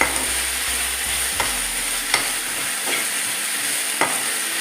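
Ginger garlic paste fries in a pan for a Mangalore-style chicken curry, a steady loud sizzle broken by regular scraping strokes of a spoon stirring it around.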